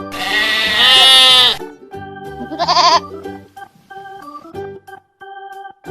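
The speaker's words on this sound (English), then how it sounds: "Sheep." A sheep gives a loud, close bleat with a wavering tone, followed by a second shorter bleat and then softer tonal sounds.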